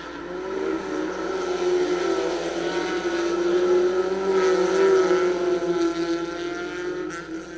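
Race cars, including a Ford Probe, roar past on a circuit during a vintage stock-car style event, a sustained engine drone that swells and fades with no talk over it.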